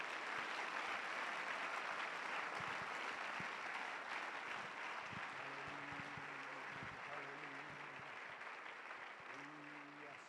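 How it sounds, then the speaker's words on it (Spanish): A church congregation gives a strong round of applause during a Spanish-language service, a dense steady wash of clapping filling the room, gradually thinning toward the end as a few voices and faint tones come through. "Dale un fuerte aplauso a Cristo Jesús."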